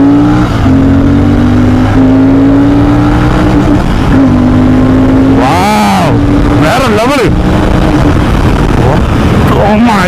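A Royal Enfield Interceptor 650 motorcycle pulls away and accelerates through the gears, its engine drone climbing and dipping with each shift and rising sharply to a rev peak near the end, with voices talking over it.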